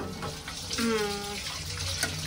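Water runs from a tap in a steady splashing stream, with faint household sounds and a brief clink in the background.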